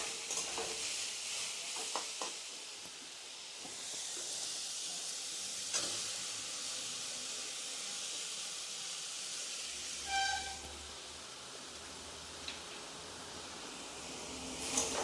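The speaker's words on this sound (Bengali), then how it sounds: "এবারে দেখুন গ্রেট করা পেঁপেগুলো আমি দিয়ে দিলাম।" Grated raw papaya is tossed into a pan with fried peanuts and stirred, giving a soft, steady sizzle with occasional scraping clicks of the spatula, fairly quiet and without speech.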